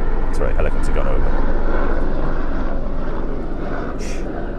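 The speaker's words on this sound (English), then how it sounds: "helicopter gone over." A helicopter passing overhead outdoors, a loud, steady rotor and engine drone that fills the whole clip and eases slightly as it moves away near the end.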